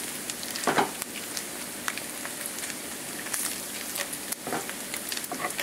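Strips of bacon fry in a pan with a steady, dense sizzle and crackle, close and fairly quiet, with occasional sharper pops and no one speaking.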